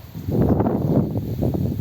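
Broad, rushing noise of strong wind gusting against the microphone, rising and falling over a couple of seconds with no voices.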